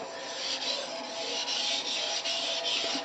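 A Watanabe kaibou knife drawn steadily across a sharpening stone, giving a continuous close scraping rasp with faint rhythmic strokes and no talk.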